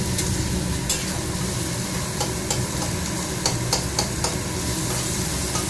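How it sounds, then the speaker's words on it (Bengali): Salt dry-frying in a pan crackles in a continuous close sizzle, punctuated by sharp scraping clicks of a spoon stirring it; nobody talks. "আগে এইখানে আমি লবণটা ভেজে নিচ্ছি।"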